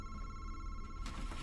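A telephone rings in the horror game Scary Madison, a short steady electronic bell tone that starts quietly and grows brighter and noisier near the end.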